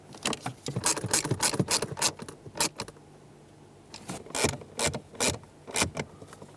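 A screw being tightened on the blend door actuator of a 2010-2017 Chevrolet Equinox gives two bursts of quick, close mechanical clicking, separated by a short quiet pause.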